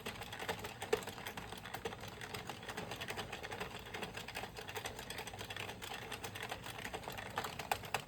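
An Addi knitting machine is cranked slowly by hand, giving a quiet, continuous run of small rapid clicks and rattles at an even pace, with no speech.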